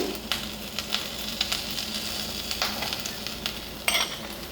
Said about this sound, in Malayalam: ഇതിട്ട് കൊടുത്താൽ ഉടനെ തന്നെ നമ്മൾ ബട്ടറിൽ ഉടനെ തന്നെ മിക്സ് ചെയ്യണമേ കട്ട പിടിക്കാതെ നന്നായിട്ട് ഇളക്കി കൊടുത്തേക്കണം